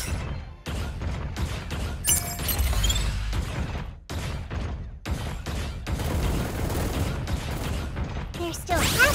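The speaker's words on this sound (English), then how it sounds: "Gunfire." Bursts of gunfire in the video game Super Mecha Champions ring out repeatedly, sharp volleys and crashing impacts broken by short pauses, with a voice talking underneath.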